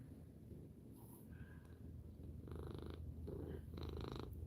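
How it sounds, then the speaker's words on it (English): A cat purrs close by in a quiet room, a low soft rumbling that swells in waves over a steady background hiss. "The cat is making his presence known."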